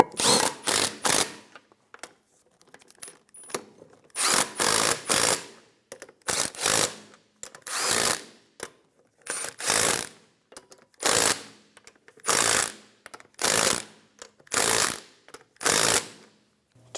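Lug nuts being snugged down on a 2003-2007 Infiniti G35 rear wheel with a powered impact tool, about a dozen loud, close bursts of rattling hammering separated by short pauses.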